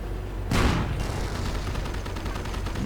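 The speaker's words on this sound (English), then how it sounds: "50 caliber machine gun firing away" A .50 caliber machine gun fires in a video game battle: a loud burst opens the sound, then sustained rapid fire rattles on steadily over a dense battle din.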